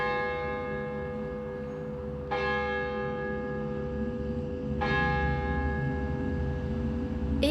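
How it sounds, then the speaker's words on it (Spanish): A church bell tolls twice, several seconds apart, each strike ringing with long, sustained overtones that hum and fade under a low background rumble. "despertarse con las campanadas de la iglesia"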